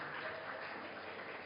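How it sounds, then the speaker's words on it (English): Audience clapping at a Silver Jubilee award ceremony of the Mizoram Architects Forum, a steady, fairly soft wash of many hands applauding together, muffled and even throughout. "Let's give her a round of applause"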